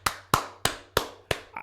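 Five slow, evenly spaced single claps at a political event, crisp and close with a short ringing decay after each, then a faint softer tap at the end; no voices.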